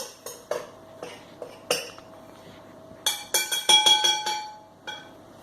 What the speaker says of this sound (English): just cut that up with your knife into wee bits